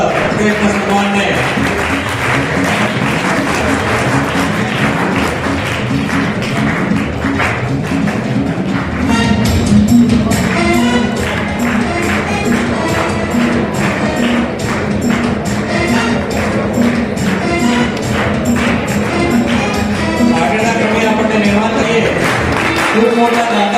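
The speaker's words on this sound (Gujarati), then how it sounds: "જોરદાર તાળીઓ વધાવીએ" Audience at a school golden jubilee ceremony honoring alumni and donors, sustained loud applause from a large crowd filling the space with dense, continuous clapping, with some voices mixed in.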